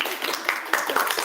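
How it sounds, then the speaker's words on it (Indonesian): Classroom of students clapping hands briefly, a short burst of scattered claps with a few sharper individual hits, close by and fading quickly. "Oke, tepuk tangan dulu."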